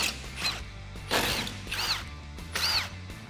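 Ratchet with a T50 Torx bit backing out bolts on a Jeep Wrangler JK tailgate hinge: three close, rapid clicking bursts in a steady rhythm, each under a second, with no talk.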